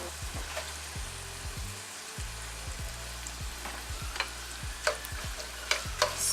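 Onions and pancetta fry in oil in a pot, making a quiet, close sizzle with a utensil tapping and scraping now and then at an uneven pace, and no talking.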